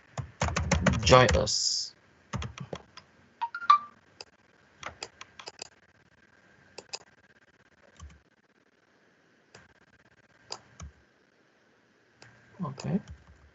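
Someone types on a computer keyboard in quick bursts of clicking keystrokes, with a long flurry at the start, then scattered taps and short pauses. A voice speaks briefly.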